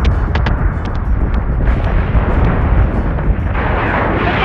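Ship guns fire in the space combat game Battlestar Galactica Deadlock, a dense continuous rumble of blasts with rapid sharp cracks layered on top, loud and steady throughout.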